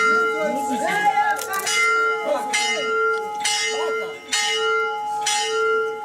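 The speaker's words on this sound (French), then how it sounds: "Il a donné un coup de cloche pour marquer sa mission de réveiller les chrétiens et les inviter à aller à la paroisse" A parish church bell rings repeatedly to call Christians to mass, steady bright clangs with long ringing overtones, close and loud, with voices faintly heard between strikes.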